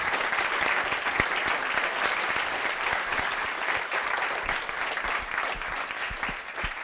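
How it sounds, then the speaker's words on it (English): Sustained applause from an audience, a dense even patter of clapping that holds steady for several seconds before easing slightly. "a big round of applause"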